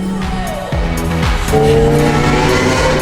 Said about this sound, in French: c'est une folie le bruit du Aventador, c'est le pétarade